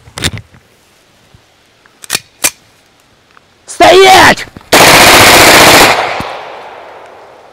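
Pistol gunfire: a few sharp, scattered clicks and snaps, then a loud mechanical clatter and a long, harsh burst of rapid shots that decays into a fading tail.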